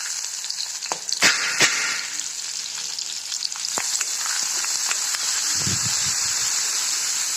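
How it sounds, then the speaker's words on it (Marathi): Chopped onion fries in hot oil with cumin in a pan, a loud continuous sizzle and hiss close by, punctuated by a few sharp utensil clicks and low stirring thumps near the end. "कांदा टाकतो कांदा टाकून चांगला भाजून घेते"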